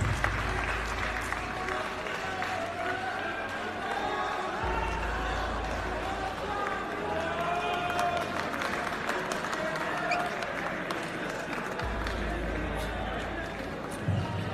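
A large audience at a Babbu Maan fan gathering bursts into loud, sustained applause, dense clapping and crowd noise rolling on throughout, with voices mixed in beneath.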